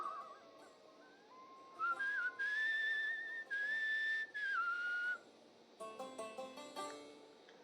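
Whistling by the character in the video game Where The Water Tastes Like Wine, a clear melodic tune with long held and sliding notes, followed by a short run of quicker plucked musical notes.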